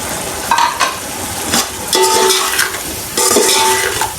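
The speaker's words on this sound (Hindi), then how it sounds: "अच्छी तरह 10-15 मिनट के लिए भून लेंगे।" Cumin, garam masala, salt, turmeric and chillies frying for pulao, a steady sizzle with stirring scrapes and faint clinks of a spoon against the pan, swelling in bursts as the spices are turned.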